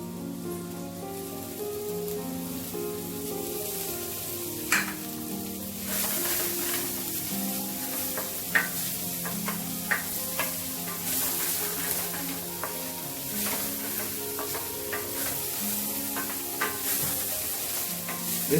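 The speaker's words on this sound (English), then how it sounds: "Just stir this for a few minutes." Prawns fry with finely chopped chilli and spring onion, a steady sizzle with scraping stir strokes and occasional sharp clinks of utensil on pan, moderately loud and continuous.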